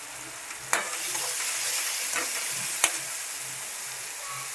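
Fenugreek leaves and tomatoes fry in a pan under a steady close sizzle, with occasional stirring scrapes and two sharp utensil knocks against the pan, no talking.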